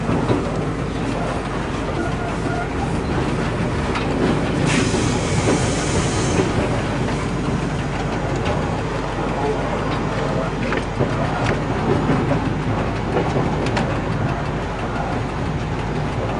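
A train hauled by a 68000 diesel locomotive rolling past on the rails near Troyes gives a loud, continuous rumble with rhythmic wheel clatter and a brief high squeal partway through.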